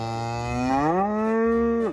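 A cow at a small petting zoo gives a single long moo, close and loud, rising in pitch midway and holding before cutting off abruptly.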